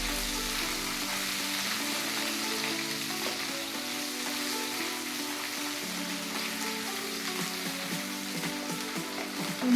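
Potatoes and bitter gourd sautéing in a home pan give a steady, close frying sizzle with light crackle and faint stirring, continuing evenly throughout with no one speaking.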